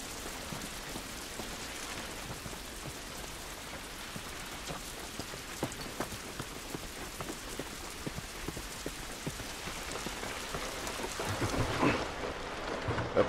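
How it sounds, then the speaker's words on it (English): Steady rain falls on surfaces in the post-apocalyptic video game The Last of Us, a dense continuous patter with scattered louder drops, swelling slightly near the end, with no voices. "This rain ain't gonna do us any good."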